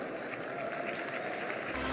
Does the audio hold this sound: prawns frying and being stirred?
no